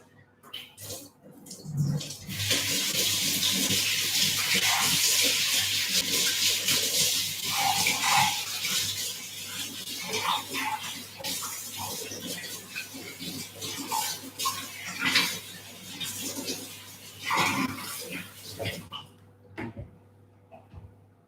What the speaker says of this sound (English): Just gonna wash my hands and I'll show you.